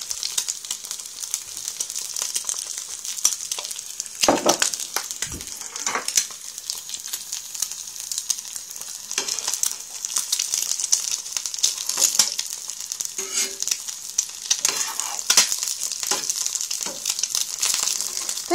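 An egg fries in oil in a pan, giving a steady bright sizzle throughout with occasional louder pops and crackles and faint scraping, close and continuous with no talking.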